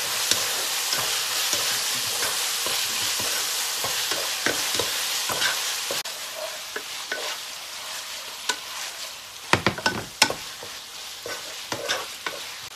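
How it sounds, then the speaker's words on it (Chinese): Cumin lamb stir-fried in a wok with soy sauce, salt and white pepper gives a continuous loud hiss and sizzle, with repeated sharp scrapes and clatters of the spatula tossing the meat, no talking. "来点酱油翻炒"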